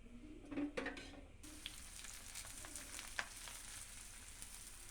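Rice flour roti frying with ghee on a hot griddle gives a steady, close sizzle that starts with a few soft clinks and handling sounds before settling into a continuous hiss.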